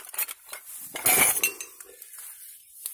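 A metal spoon clinks and scrapes against a cup or pot while camp coffee is being made. The light taps are close and irregular, with a brief louder rattle in the middle.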